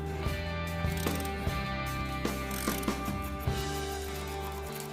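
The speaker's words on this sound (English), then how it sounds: "put our big ratchet on and get her super duper tight" A large ratchet clicks in steady repeated strokes while tightening the axle nut on a Ram 1500 4x4 front hub during a wheel bearing replacement, close up over a constant low mechanical hum.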